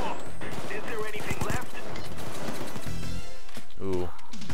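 Chimano Compact pistols fire in Payday 2, a video game: rapid sharp shots and mechanical clacks in quick bursts, loud and up close, mixed with a talking voice.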